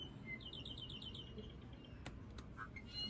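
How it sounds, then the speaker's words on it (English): Apapane song in a Hawaiian rainforest, quick, high chirping notes repeated in a rapid series, faint and distant over a low background rumble, with a few sharp calls near the end. "That is an apapane."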